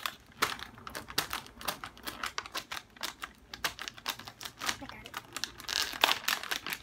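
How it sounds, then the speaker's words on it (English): Crinkly plastic wrapper of a package of limited-edition Good Humor Strawberry Shortcake Oreo cookies being torn and crumpled open up close, with rapid crackling bursts and brief talk mixed in. "let's rip them open and see what we got."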